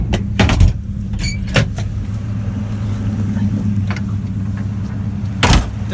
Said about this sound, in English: Does have the 500 V8, great motor, very powerful motor.